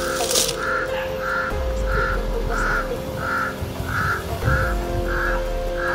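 A series of about ten rhythmic croaking caws repeats steadily over a low rumbling game ambience, evenly spaced like calls from a distant bird.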